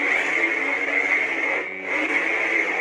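A Sabertrio lightsaber sound font hums steadily with a deep, bass-heavy buzz, a continuous electric drone that dips briefly before resuming, with no voices.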